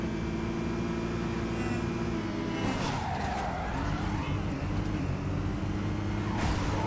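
A truck drives in the racing video game Midnight Club 2, giving a steady, heavy engine drone. Tire skids and a brief rising whoosh cut through it, with no talk over the engine.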